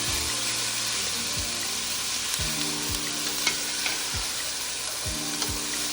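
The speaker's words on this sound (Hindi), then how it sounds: "अब इसे स्टिर फ्राई कर लूँगी" Chicken stir-frying in hot oil for a macaroni dish, giving a steady loud sizzle throughout with occasional scraping stir knocks, and no talking.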